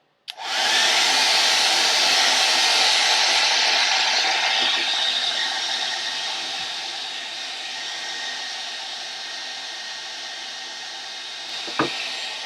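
A heat gun or hair dryer blows steadily on an airbag warning sticker, switching on abruptly with a click and then roaring as a constant loud hiss, with a faint tap near the end.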